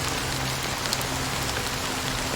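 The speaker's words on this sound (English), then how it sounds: "it's still raining" Steady rain falls in the fantasy game Honkai: Star Rail, a dense continuous patter of drops across a surface with a faint low tone underneath and no talking.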